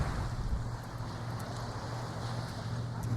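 Steady wind blowing with a low rumbling buffet against the microphone, continuous and fairly loud, with no voices.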